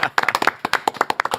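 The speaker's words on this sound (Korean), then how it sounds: "박수로 맞이합니다." An audience welcomes a guest with brisk, close clapping, a quick run of sharp, uneven hand claps lasting under two seconds.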